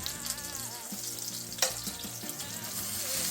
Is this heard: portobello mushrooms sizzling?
yes